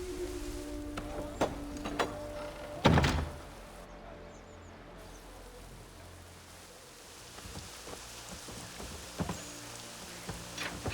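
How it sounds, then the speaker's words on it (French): Steady rain in the video game Assassin's Creed III patters over a quiet background, with scattered drips and a few louder thuds and knocks along the way. "Ah bah, il pleut."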